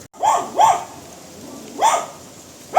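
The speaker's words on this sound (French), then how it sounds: "Oh chut le chien là." A dog barking outdoors in Kalpetta, Kerala, India: four sharp, close barks in two quick pairs with a pause between, over faint background hiss.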